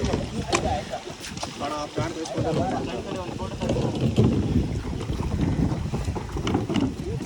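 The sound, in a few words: kayak paddling on water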